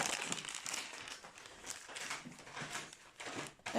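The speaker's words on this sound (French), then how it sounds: "Le bruit que vous entendez derrière, c'est ma mère qui range ses achats." Grocery bags crinkle and rustle faintly in the background as shopping is put away, giving irregular bursts of crackling plastic with brief pauses between them.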